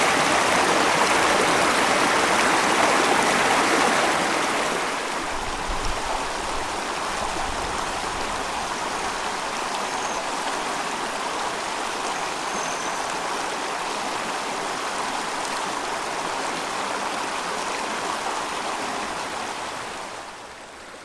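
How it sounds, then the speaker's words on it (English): A stream, the river running behind a campsite at Fawn Lakes Campground on the Red River in New Mexico, rushes steadily with broadband water noise throughout, close and loud, easing slightly near the end. "We're going to end this video with a shot of the stream, the river behind our campsite"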